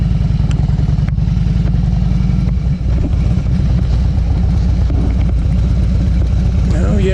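A Harley-Davidson motorcycle engine rumbles loud and close with a steady throbbing beat, joined by some rattling and clatter as it rides off-road over rough ground.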